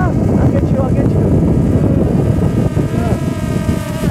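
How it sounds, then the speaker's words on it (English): A small flying drone buzzes outdoors with a whirring propeller drone and gusty wind noise, fairly loud and close, while a person talks over it. "that was my drone"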